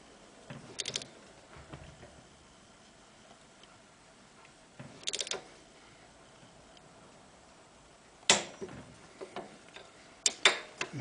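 Torque wrench clicking as final drive bolts are tightened to 35 foot-pounds on a BMW R90/6 airhead motorcycle, worked through an extension past the swing arm; a few short sharp clicks and ratchet ticks, close, separated by quiet gaps.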